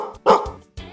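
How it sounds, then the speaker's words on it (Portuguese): Cartoon dog barking in a children's musical cartoon: two or three short, loud barks spaced out over a second, heard alone without talk. "O cachorro late"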